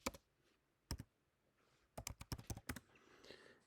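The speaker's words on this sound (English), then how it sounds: "I'm going to type in Font Awesome" Keys on a computer keyboard clatter in brief bursts, a single click then a short pause, then a quick run of several keystrokes, moderately close in a quiet room with no talking.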